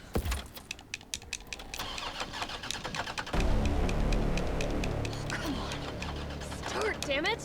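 A stolen car's engine in Resident Evil 3 cranks with mechanical clicking and whirring, then catches and settles into a steady rumbling idle, with scattered clicks and a voice talking over it.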